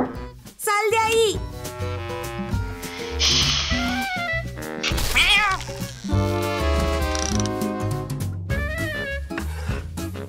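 A cartoon cat meows and caterwauls in a series of loud, drawn-out, wavering cries mixed with animated sound effects and music, while characters speak around it.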